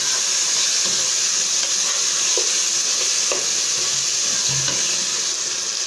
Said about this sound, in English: I'm going to fry this until it is dried